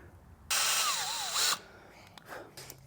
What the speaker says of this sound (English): I did not let the drill bit go kunk and hit the bearing.